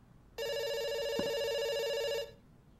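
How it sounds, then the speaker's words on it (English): A telephone rings once with a sustained electronic trill lasting about two seconds, loud and near, followed by quiet, with no one talking. "It's ringing."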